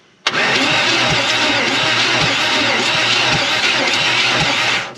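A Ford Ranchero engine cranks and catches after sitting for over 30 years, then runs loudly and steadily with a rough, pulsing idle.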